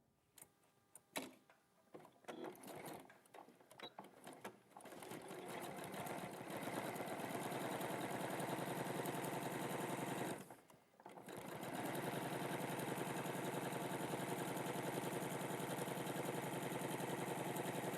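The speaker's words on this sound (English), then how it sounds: "So I'm just going to quickly sew that." Sewing machine stitching fabric in a continuous steady whir with rapid ticking, preceded by a few handling clicks and briefly pausing midway before resuming; close and alone, with no talk over it.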